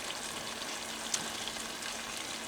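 Sauce for steamed snapper simmering and sizzling in a pan, a steady, even bubbling hiss throughout with no talking, moderately loud and close.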